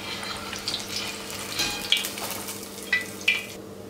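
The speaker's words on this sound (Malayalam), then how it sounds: "ഇപ്പോൾ നമ്മുടെ ചവ്വരി വട ഏകദേശം കുക്കായിക്കൊണ്ടിരിക്കുന്നു" Sago (sabudana) vadas frying in hot oil, a constant bubbling sizzle with occasional sharp pops and spatters, close and without talk.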